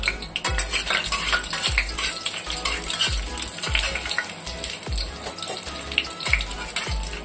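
Whole cloves and a stick of cinnamon sizzle in hot oil in a pot for a chicken curry, a steady loud crackling fry with repeated low metallic knocks of a spoon stirring against the pot.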